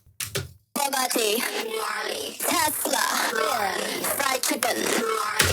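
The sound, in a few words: vocals with ring modulator effect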